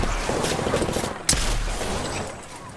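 A volley of rapid gunfire from Apex Legends, dense and loud, rattling steadily through the moment with one sharp crack standing out midway, fading slightly toward the end.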